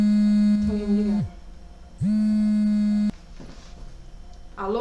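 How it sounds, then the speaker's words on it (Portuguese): Phone busy tone after a dropped call: two long steady electronic beeps, each about a second long with a gap between, loud and clear, followed by a faint murmur. "Caiu a ligação."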